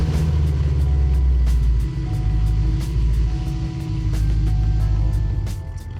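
A Cadillac CTS-V wagon with an aftermarket exhaust system, heard as a loud, deep engine rumble that settles into a steady idle around 900 RPM.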